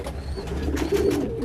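Caged pigeons coo in a low, continuous throaty rumble, several birds overlapping close by at a steady moderate level with no talking.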